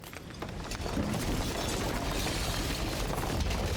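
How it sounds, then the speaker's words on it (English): A dense, sustained shattering crash in the game Slay the Princess, loud, close and washing continuously across the whole moment with a crackling, glassy texture. "And then the shattering."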